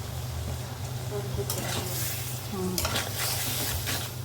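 Prawns stir-fried in a pan with spices, a close sizzling hiss punctuated by bursts of spatula scraping and stirring, with faint background voices underneath.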